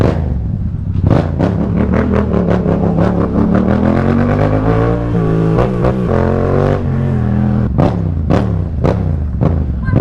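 A loud Yamaha MT-07 motorcycle engine revs hard and continuously, pitch climbing and dropping with sharp throttle blips, very close.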